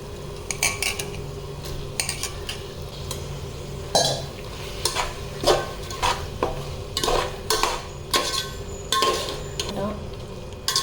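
Washed chicken going into a pan of sautéing leaves for biryani, sizzling steadily while a metal spoon scrapes and clanks against the pan in repeated strokes, close and fairly loud.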